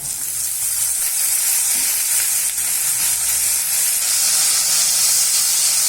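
Chopped banana stem and onions sauté in a hot pan for a vegetable stir-fry, a loud steady sizzle and hiss of frying with faint stirring throughout, no voices.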